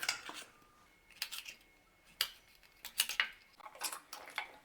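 A knife cuts through a pumpkin in a home kitchen with a run of short, crisp, close scraping and crunching strokes, irregularly spaced with quiet gaps between them.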